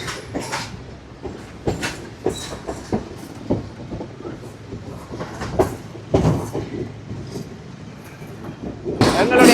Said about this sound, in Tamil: ட்ரெயின் சரியாக 12:23 வந்து எடுக்கினா.